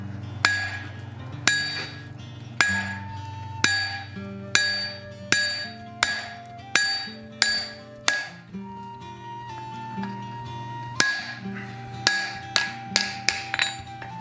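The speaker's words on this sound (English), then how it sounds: "I'm hitting with my hammer 1/2 on, 1/2 off to create" Hammer blows on hot steel against an anvil while a beginner hand-forges an axe, striking near the inside edge to cut a notch: a steady series of sharp, ringing metallic strikes, close and clear, with brief pauses.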